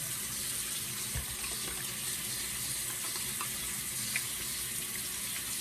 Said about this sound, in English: All right, so I'll go ahead and just wash my hands.